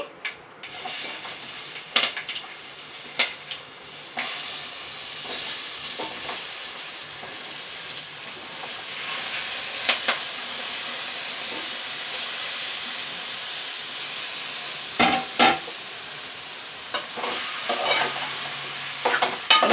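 Vegetables for cabbage curry fry in a pan with a loud, continuous sizzle, close by. Scraping stirring strokes break through it now and then, and there is no talk.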